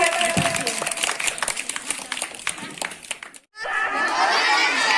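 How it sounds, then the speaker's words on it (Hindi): Loud clapping and excited shouting from students at a Teachers' Day school event after a teacher's speech, a thick crowd roar that breaks off briefly near the end and then surges back. "नेहा मैम की सुंदर से स्पीच के लिए जोरदार तालियां"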